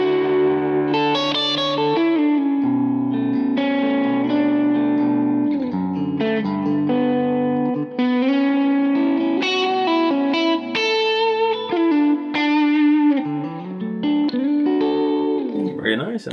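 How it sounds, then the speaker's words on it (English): Cort G290 FAT II electric guitar played through its middle pickup, a clean, slightly effected tone with chorus and reverb, picking out a melodic phrase of single notes and chords, loud and close. "Let's hear the middle pickup."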